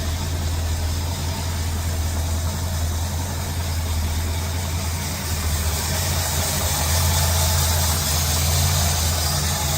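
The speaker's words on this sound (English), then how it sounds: "Motor sounds great." A 1941 Mercury hot rod engine idles with a steady low rumble and constant vibration, close and even throughout, with no talk.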